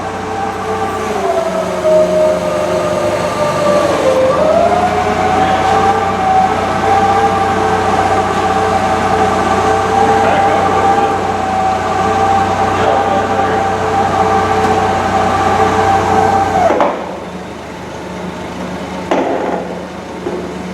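Hydraulic side shifter on a Timberpro 830B forwarder running with a loud, sustained whine that rises in pitch, holds steady for a long stretch, then drops away as the load eases, over a low engine drone.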